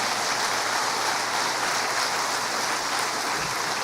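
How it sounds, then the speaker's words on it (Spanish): A church congregation claps during a sermon, a steady, even wash of applause with no distinct voices, sounding fairly distant and uniform throughout. "Denle un aplauso al Señor."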